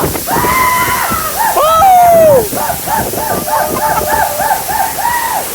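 A waterfall at Kanthalloor near Munnar, Kerala, gives off a steady rushing splash that sits underneath voices talking and calling out loudly across the whole stretch.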